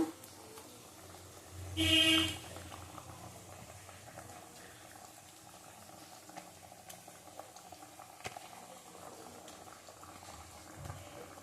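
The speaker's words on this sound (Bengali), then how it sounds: "দেখো ঝোলটা ফুটে গেছে" Fish curry broth of katla and potato simmers in a pot with a faint, steady bubbling, broken by a brief louder burst of boiling early on.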